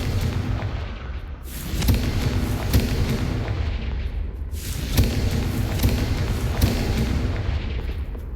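Confringo fire spells burst repeatedly in Hogwarts Legacy, a series of booming blasts and crackling impacts at an irregular rhythm, with heavy rumbling tails between hits and no talking.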